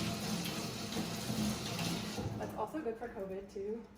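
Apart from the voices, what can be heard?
washing hands under running tap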